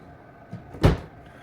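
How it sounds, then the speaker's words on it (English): A Cadillac XT5 car door shuts with a single dull thump, preceded by a faint click, in an otherwise quiet indoor space. "close the door and see how it lines up."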